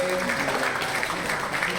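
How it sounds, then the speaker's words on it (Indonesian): Steady applause from a crowd, dense and continuous clapping for a couple of seconds with no pauses. "Tepuk tangan sekali lagi untuk JDP"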